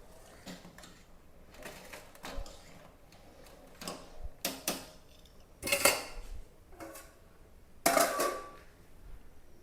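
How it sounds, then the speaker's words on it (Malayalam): A ladle scoops cooked kaima rice out of a pot for a tiger prawn biriyani, giving scattered metallic scrapes and clinks that come in short bursts separated by quiet gaps, fairly soft and close. "ചോറൊക്കെ കോരി മാറ്റാം"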